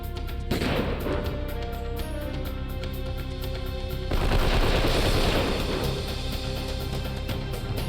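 Sustained rapid gunfire in the video game Wild Arms 3, loud and continuous, surging in a heavier volley midway, with no voices.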